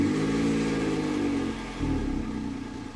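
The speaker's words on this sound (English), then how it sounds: "first a cold startup of this 2010 Toyota Aygo" A 2010 Toyota Aygo starts from cold, its small engine settling into a loud, harmonic idle hum close by, dipping briefly midway, then picking back up and easing off slightly.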